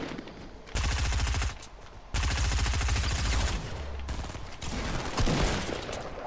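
Rapid bursts of automatic gunfire and heavy shotgun blasts in a Fortnite Battle Royale match at Salty Springs, loud and close, coming in two long dense volleys and then a stretch of scattered shots.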